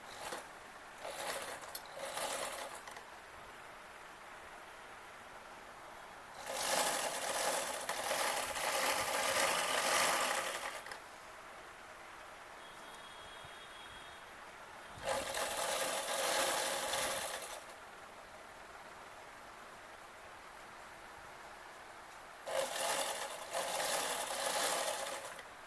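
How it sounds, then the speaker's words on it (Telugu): A sewing machine stitches a blouse, running in three steady bursts of a few seconds each with quiet pauses between, fairly close and with no talk. "ఇలా పైన కుట్టే వేసుకుందాం."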